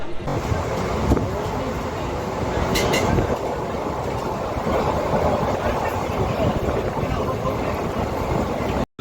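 Steady rumble and rattle of the Maa Tara Express, running from Sealdah to Rampurhat, heard from inside the carriage. The roar stays loud and continuous throughout, with wind-like noise over it, before cutting off abruptly at the very end.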